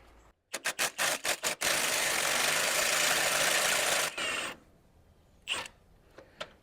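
An impact wrench works on a Ford 9N tractor: a quick series of sharp rattling bursts comes first, then a long, loud continuous hammering run, and a few shorter bursts close by follow it.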